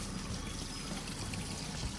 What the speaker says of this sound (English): I am going to blow a little bit of water